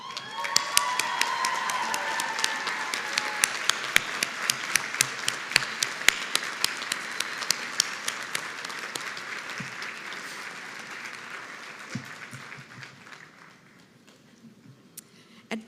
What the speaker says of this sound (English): Graduates, I invite you now to stand and applaud our faculty and staff for their tireless devotion to